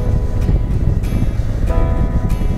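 Blustery outdoor wind on a warm Christmas morning in East Central Florida, a loud, continuous low buffeting rumble pressing against the microphone with no pauses.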